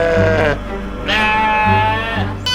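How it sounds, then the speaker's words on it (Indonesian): Goats and sheep bleat loudly and up close at feeding time on a farm, long wavering calls overlapping one another in a restless chorus with barely a pause between them. "ternyata sekarang adalah waktu makan para kambing dan domba ini"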